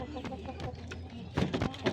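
A 3-kilo hen clucks in short, close bursts, with a quicker cluster of clucks near the end over a busy farmyard background.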